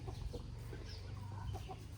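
Chickens cluck softly in a rural backyard. Faint, scattered clucks come through steady low background noise, with no talk.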